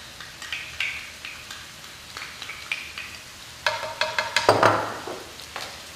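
Taco-seasoned food sizzles and crackles in a pan while a utensil stirs it in steady scraping strokes, with a busier burst of sizzling near the end and no talking.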